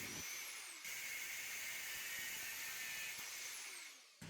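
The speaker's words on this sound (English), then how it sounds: "Now it's time to cut the threaded rod to the right sizes." A power tool cuts threaded rod for a deep reach clamp, giving a steady high whine with a faint grinding edge that holds for a few seconds, then winds down, fairly quiet and without voices.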